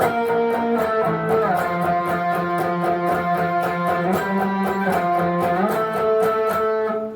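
A distorted electric guitar riff from a song repeats steadily for several seconds, with bends and punchy strummed hits, played alone without any voices.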